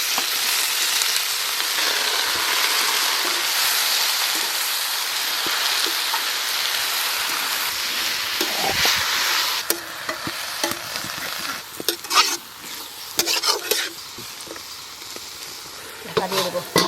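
Leafy greens (shak) frying in a pan for a Santali-style parwal and small prawn curry, a dense continuous sizzle that later breaks into scraping stirring strokes and clatter, with a voice talking at points.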